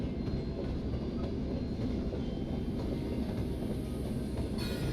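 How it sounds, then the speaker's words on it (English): A moving train in a desert exploration game rumbles steadily, with a continuous rolling drone and faint rhythmic clatter at a constant level throughout. "there's like a proper train going on here"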